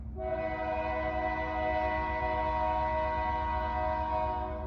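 A sustained blast from a close train horn rings loud and steady over a heavy rumbling rail roll, continuing throughout with no voices.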